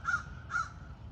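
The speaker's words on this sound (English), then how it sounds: "That's that crow right there, he knows." Crow cawing outdoors, two loud, harsh caws about half a second apart, clear and close with a low rumble underneath.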